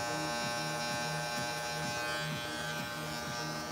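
Electric hair clippers buzzing steadily against the scalp during a fade haircut, a close continuous hum with a rhythmic pulsing texture as the blade sweeps through hair, no talk.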